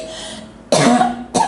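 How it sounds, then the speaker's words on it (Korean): Two harsh, loud coughs from a person close by, in a room during a church group meeting; the first cough is longer and is followed after a short gap by a second, briefer one. "왜 이렇게 기침이 나는지"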